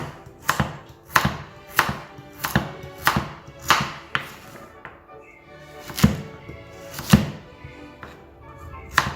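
Mirepoix vegetables for a stock being cut with a knife on a board, a series of distinct close chopping thunks in an uneven rhythm with short gaps.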